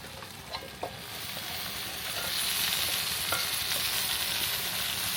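Kuche fish dropped into hot oil in a village kitchen pan, a few light knocks at the start giving way to a swelling, steady sizzle that holds close and even.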